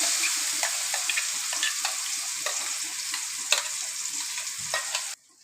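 Greens fry in oil in a pan on a stove turned down to a simmer, giving a continuous close sizzle with scattered crackles and stirring clicks. It ends abruptly in near silence.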